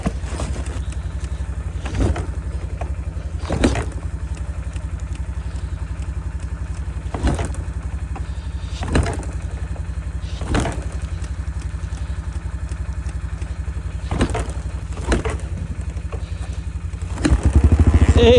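A cold small engine, kickstarted in winter and apparently a snowmobile or four-wheeler, idles steadily with a low rumble and lumpy running. Periodic thumps and clatter recur throughout, and revving rises near the end.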